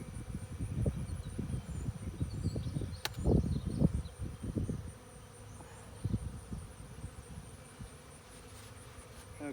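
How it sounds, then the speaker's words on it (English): A honeybee swarm hums and buzzes inside a hive box, a close, busy drone with louder bursts near the start that settles into a softer steady hum. "This is a swarm we caught a couple of months ago."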